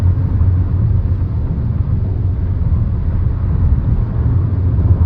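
A car carrying four travellers rolls along a scenic road between Deoli and Yavatmal, giving a steady low engine and road rumble from inside the car, continuous and fairly loud with no talk.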